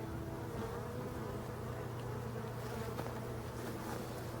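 Steady, close buzzing of bees hums continuously without a break, a low droning layer with faint background noise.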